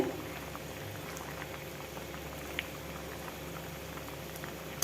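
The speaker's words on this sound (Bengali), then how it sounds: "মাছগুলো দেখুন ঝোলটা ফুটে উঠেছে কত সুন্দর হয়েছে" Tangra fish curry with ridge gourd and potato bubbling in a pot, a soft continuous simmer with faint pops and a few light ticks, close and quiet.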